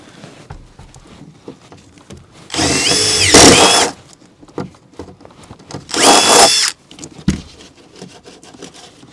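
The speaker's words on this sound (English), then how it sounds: "drill a hole over there so we can get back to the water heater" A power drill bores a hole through the wall of a vintage 1957 Airstream trailer, two loud bursts of drilling of about a second each with quiet handling noises between them, close and alone.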